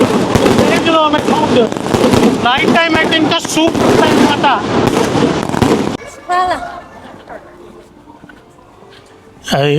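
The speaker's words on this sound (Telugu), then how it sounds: "ముహూర్తం టైం కాగానే బాంబులు కాలుస్తారనమాట ఇది ఇక్కడ ఇది ఇక్కడ సాంప్రదాయం బాంబులు టపాసులు" Rapid loud firecracker bursts crackle in a dense volley under excited voices at a wedding, then fade to scattered pops and talk before a final bang.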